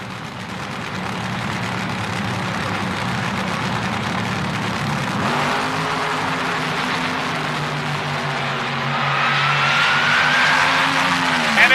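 A Camaro-bodied funny car on a quarter-mile drag strip, a loud sustained engine drone with shifting harmonics that swells and rises in pitch near the end, with a crowd-like wash and faint commentary underneath.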